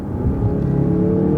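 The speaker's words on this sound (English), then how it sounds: "You step on the gas," Mazda SUV with a 2.5-liter turbocharged engine accelerating, a close, steady engine rumble and whir building smoothly over a brief moment.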